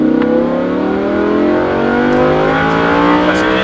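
Lamborghini Huracan accelerating hard on a race track, its engine note climbing steadily and loud from close inside the car, with no break in the sound.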